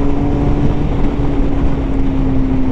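Honda CBR 1000 RRR SP Fireblade motorcycle engine under way in rain mode, a steady close drone with a constant pitched tone, continuous and unbroken with no speech over it.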